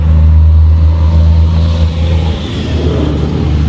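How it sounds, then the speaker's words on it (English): A farm truck rolls past close by, its steady mid-pitched engine drone loud and continuous, with low rumble and road noise throughout and no talk. "let the farm truck go by first"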